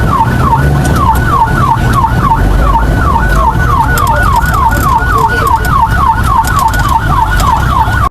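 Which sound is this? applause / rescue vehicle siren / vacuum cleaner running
rescue vehicle siren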